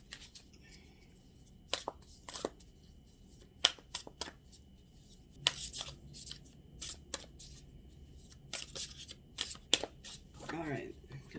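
Tarot cards are shuffled in irregular bursts of quiet riffles, slaps and snaps against a hushed room background.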